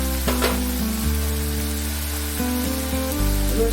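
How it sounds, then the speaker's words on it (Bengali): Whole spices, turmeric and a tomato, ginger and green chilli paste sizzling steadily while being sautéed in oil for a Bengali yogurt fish curry, a continuous close frying hiss over a low background hum. "সমস্ত মশলাটা দিয়ে কষতে থাকবে।"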